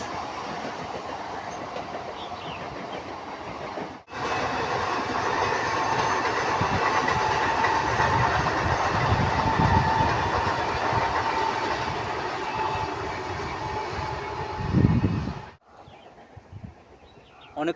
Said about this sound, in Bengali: দেখুন পেছন দিয়ে ট্রেনটা চলে যাচ্ছে।